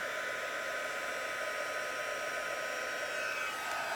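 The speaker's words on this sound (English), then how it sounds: "So I'm going to find my glue gun, or not my glue gun, my heat gun. I'm going to let it warm up for just a minute." A heat gun for embossing gold powder on a handmade card runs with a steady, even blowing whoosh and motor whine, fairly quiet and constant, with no talking.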